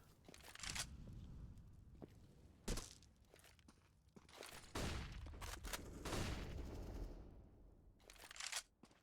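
AK rifle fire from a Counter-Strike match on Dust 2 comes in repeated sharp bursts and single cracks, mixed with footsteps and thuds at varying distance.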